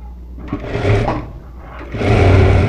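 A sewing machine runs in two bursts while stitching a puff-sleeve blouse, with a short pause between them as the fabric is turned; the motor hum is steady and close.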